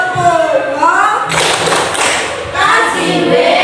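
A classroom of students claps together in a rhythmic cheer, a dense burst of hand claps mid-clip mixed with chanting voices and a teacher talking over the room.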